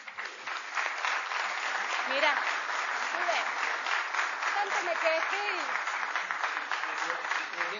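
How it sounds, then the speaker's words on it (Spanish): Audience applause at a candidates' panel, continuous clapping from a crowd with a voice speaking briefly over it and some whistles or cheers mixed in. "Los aplausos"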